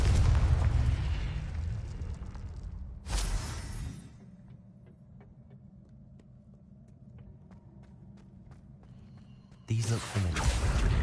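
A Confringo blasting spell exploding in Hogwarts Legacy: two loud, booming blasts with whooshing rush, one near the start and another near the end, separated by quieter ambient rumble.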